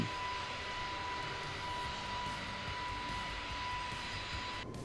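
Simulated Airbus A320 jet climbing in Microsoft Flight Simulator 2024: a steady, even engine roar with a constant high tone running through it, unbroken and close throughout.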